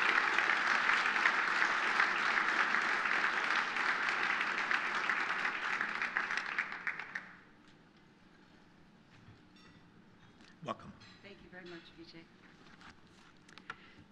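An audience at a corporate event in the New York Public Library gives a round of applause that fills the first seven seconds, then stops abruptly, leaving quiet room tone with a few footsteps and small knocks.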